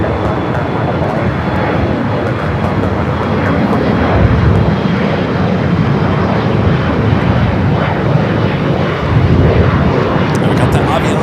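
United airliner taking off from runway 25 right at LAX, a loud, steady broadband engine roar that holds throughout, with a faint high whine on top and brief radio chatter.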